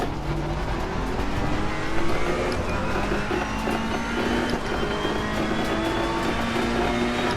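A Ferrari 488 GT3 engine at full throttle in Assetto Corsa Competizione, a steady loud mid-engine race car roar that rises slowly in pitch as it accelerates, with nothing else over it.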